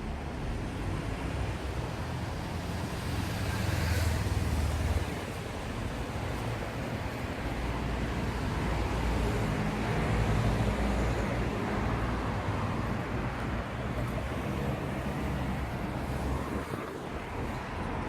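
Cars pass along a busy road near a bridge, a continuous whooshing traffic wash with a few louder passes swelling and fading, rough with wind on the microphone, no voices.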